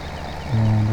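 Tractor-type vehicle reversing a wagon trailer in Farming Simulator, a steady engine drone that rises to a louder, deeper hum partway through as it starts moving back.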